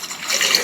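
Water poured from a tumbler into another vessel, a short steady splashing gush that builds over less than a second, close and alone with no voices.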